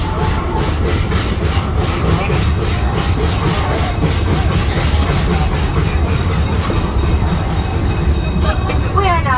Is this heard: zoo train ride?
yes